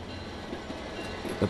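A White Pass and Yukon Route passenger train near Skagway, Alaska, rumbles along in a short, steady stretch of moving railway noise, with a slightly louder knock at the end.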